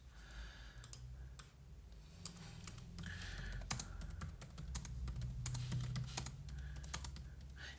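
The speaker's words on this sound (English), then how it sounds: "rather than typing away" Fast bursts of typing on a computer keyboard, crisp key clicks coming in quick uneven runs with short pauses, close and clear over a quiet room.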